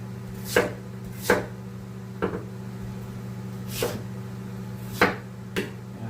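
Chayote is cut into small pieces on a cutting board, giving sparse, distinct knife chops about a second apart over a low steady kitchen hum, close and moderately loud, with no talking.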